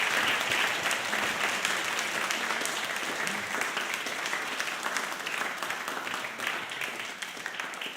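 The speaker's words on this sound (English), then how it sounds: "Why don't we give them a round of applause?" Sustained crowd applause at a panel event on aging, dense and steady for the full duration with no talk over it, tapering only slightly toward the end.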